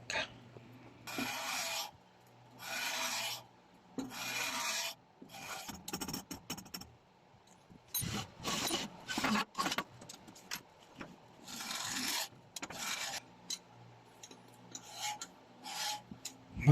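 Valve seats on a Mitsubishi 4D56 Montero Sport cylinder head are cut at 45 degrees. Repeated harsh, rasping grinding strokes come in bursts of a second or two with short pauses between them, close up and with no talking.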